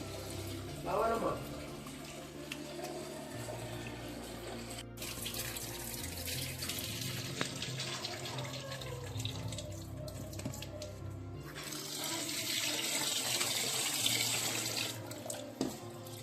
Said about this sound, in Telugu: బాస్మతి రైస్ శుభ్రంగా వాష్ చేసుకొని క్లీన్ చేసుకున్నట్టుగా